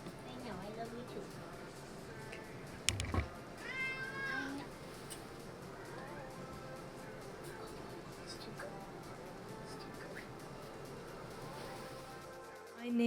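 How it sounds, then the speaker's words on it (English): Young feral kitten meowing, a few short high cries near the middle, faint against quiet room tone. "this little guy is Bone, who was a feral kitten when we first got him barely a year ago"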